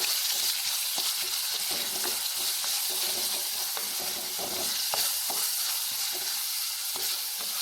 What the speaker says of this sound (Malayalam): വഴറ്റിയെടുക്കാം